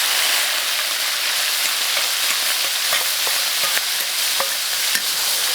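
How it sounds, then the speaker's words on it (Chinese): Pickled chilies, five-spice herb, ginger and garlic are stir-fried in hot oil, giving a dense, continuous loud sizzle with scattered sharp crackles and the scrape of stirring throughout. "咱们这个油温烧热，下入这些泡椒还有五香草、"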